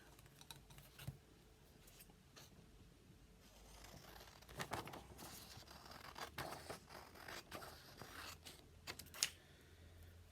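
Scissors cutting paper for an origami Christmas star, a few quiet crisp snips and rustles close by in a hushed room.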